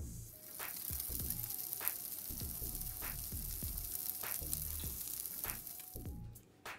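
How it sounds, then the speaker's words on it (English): A protein-packed veggie burger fries in a pan with a quiet, steady sizzle, punctuated by soft scraping and tapping sounds, with no voices. "I'm going to cook the burger for 3 minutes on the first side"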